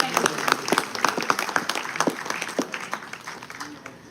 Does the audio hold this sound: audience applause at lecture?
yes